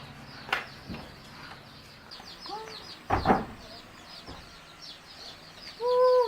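Chickens clucking nearby in short scattered calls, with a few louder squawks and a brief rustle, over a quiet farmyard background.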